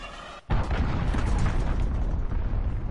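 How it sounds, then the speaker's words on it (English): A cruise missile strike lands in the Modern Warfare video game, a sudden loud, heavy blast after a brief hush, then a long rumbling roar that stays close and strong. "Cruise missile launched."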